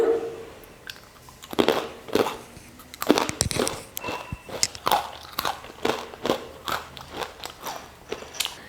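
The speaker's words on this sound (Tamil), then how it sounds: "நல்லா மொறுமொறுன்னு காராசேவ் வந்து சூப்பராக இருக்குது" Crunchy homemade potato karasev snack seasoned with pepper is bitten and chewed up close, giving sharp crackling crunches at first and then a steady run of rhythmic chewing crunches.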